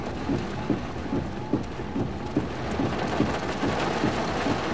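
A severe thunderstorm with wind and blinding rain in Pine Log Forest near Ebro, north of Panama City Beach: dense, steady rain hiss with low rumbling thunder underneath, continuous and loud, no voices.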